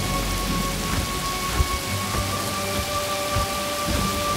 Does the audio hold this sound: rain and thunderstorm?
yes